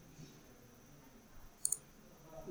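A computer mouse gives two quick, crisp clicks close to the microphone during work in ANSYS software, set against a faint, quiet room hum with no talking.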